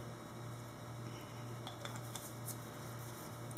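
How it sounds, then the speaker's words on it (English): Fragrance oil is stirred into cold process soap batter, scented with bamboo sugar cane, making faint light clinks and scrapes of a utensil against a container over a low steady background hum, with no talking. "I'm gonna go ahead and stir my fragrance in"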